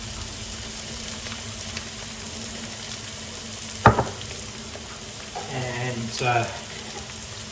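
Garam masala sizzles in a hot pan with a steady frying hiss, broken by a sharp clatter midway. A voice talks over it.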